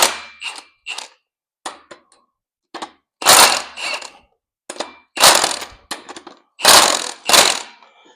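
Socket gun loosening flywheel bolts on a 1969 Dodge Charger during a TKX 5-speed install, loud close bursts of impact hammering in several separate runs with metallic clanks and pauses between them.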